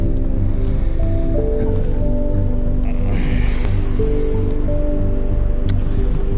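Gusty wind buffets a microphone on an open shoreline while squid fishing, a steady, loud, broadband rush that holds throughout, with no talk.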